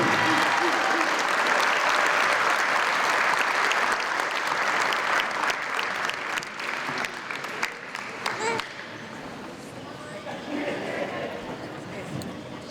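Loud, sustained applause from a Hall of Fame induction ceremony audience honoring a women's basketball inductee, a dense wash of clapping that thins and fades toward the end.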